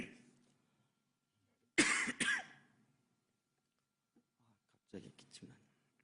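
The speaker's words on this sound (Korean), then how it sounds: "갑자기 기침나" A sharp, close cough bursts out, with a rough throat-clearing edge, then quiet before a few faint sounds.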